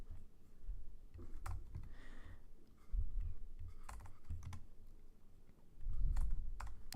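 Fast typing on a computer keyboard, with clicks coming in uneven bursts and short pauses, nearby and fairly quiet, with no voices.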